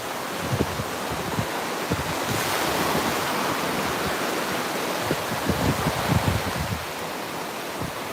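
Ocean waves break and wash steadily at the beach beside Deerfield Pier near sunset, a full continuous roar with repeated surges and some wind buffeting the microphone, no voices.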